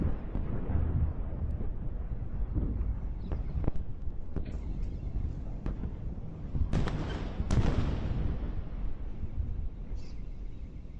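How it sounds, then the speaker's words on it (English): Explosions from a missile attack on a live news feed boom and crack at a distance, several sharp bursts and rumbles over a steady background roar, with no talking. "you can hear the explosion"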